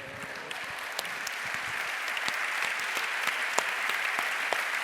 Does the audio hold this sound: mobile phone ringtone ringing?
no